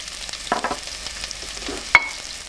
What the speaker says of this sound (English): I'm going to fry this about 1 minute now